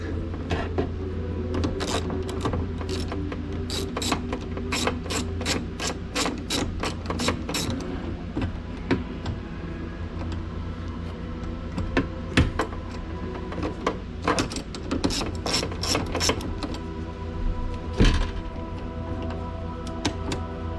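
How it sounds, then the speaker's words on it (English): Ratcheting on a bolt inside the door of a 2000 Chevrolet Silverado during window regulator work: runs of quick close clicks and mechanical taps over a steady low hum, with no talking. "now I can get to that bolt here and loosen it"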